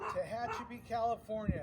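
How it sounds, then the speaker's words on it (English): A dog barks and yips in the background while someone talks over it, the short barks fairly faint and coming in a few quick bursts. "That's my dog Coco barking in the back"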